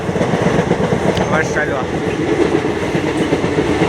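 A Rajdhani express train rolls along the tracks on a Guwahati to West Bengal run, with a steady dense rumble and faint clatter heard from inside the coach, and people talking over it.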